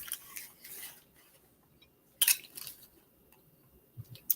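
A knife or scissors cuts lunch food in half with a few close crisp snips and scrapes, one sharp cut standing out midway between quieter ones, with no talk.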